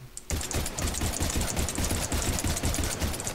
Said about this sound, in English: So this is the pistol.